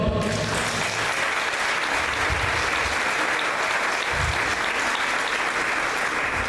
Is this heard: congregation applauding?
yes